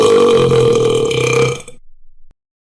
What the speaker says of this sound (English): I'm going to burp in front of John Cena.